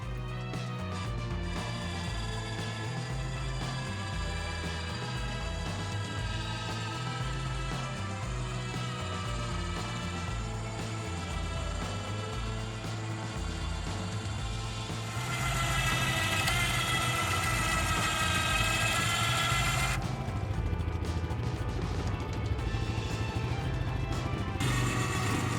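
A Yamaha-Linhai D400 4x4 ATV engine runs steadily and close throughout, its drone swelling louder for a stretch partway through as the machine drives off, with no talking.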